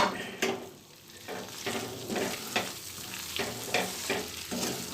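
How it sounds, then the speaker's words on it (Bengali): Soya chunks frying in a pan are stirred steadily, the spoon scraping in a regular rhythm over a constant close sizzle, with no talking. "তাই এর উপরেই সয়াবিনটা দিয়ে আমি নাড়াচাড়া করতে থাকবো"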